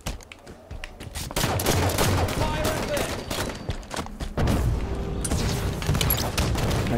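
Video game gunfire crackles in quick, dense bursts, loud and near, with a steady rumble of battle beneath.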